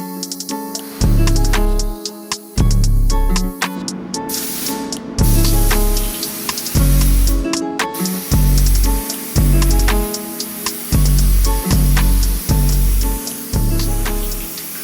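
Loud, close spray-gun bursts as epoxy primer is sprayed onto a bare metal panel: a series of hissing passes, each a second or two long, with brief gaps between strokes.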